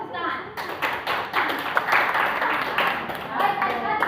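Children clapping their hands in a classroom lesson, an uneven burst of claps and taps at close range with voices talking over it.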